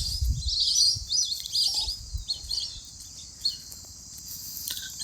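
Small birds chirp and twitter outdoors near a village yard where goats are being fed, the high calls fairly close and steady over faint low rustling and patter, with no talking.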